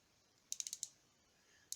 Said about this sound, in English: The ratchet still works good.